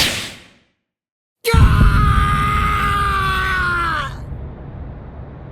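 A man screaming in pain in the game Bleach: Rebirth of Souls: after a brief silence, a sudden loud, strained cry bursts out and is held for nearly three seconds before cutting off into a lingering background hum.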